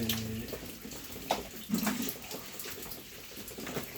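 Water sprays out in a close, hissing rush with a few sharper splashy bursts. It lasts for about four seconds.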